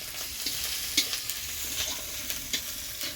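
Food frying in a pan over a strongly burning stove, a continuous close sizzle broken by several soft scraping stirs at irregular intervals, no talk.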